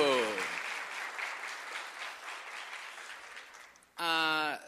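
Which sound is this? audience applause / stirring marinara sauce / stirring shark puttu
audience applause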